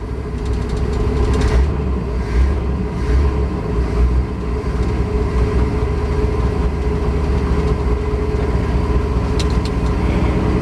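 A 1967 Ford F250 truck engine idles steadily while warming up after sitting unused for 16 years, a continuous low rumble with a few brief knocks near the start, loud and close, no talking.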